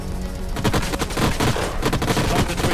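Rapid gunfire rattles in Age of Wonders: Planetfall combat, a dense volley of sharp overlapping shots and bursts that stays loud and continuous throughout.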